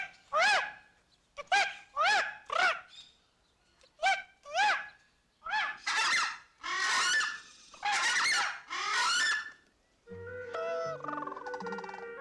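Geese at the San Antonio Zoo honk loudly in a series of repeated, close calls in bursts, ending with a brief different tonal sound.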